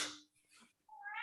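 A single close cat meow, short and slightly rising, with a brief breathy sound before it.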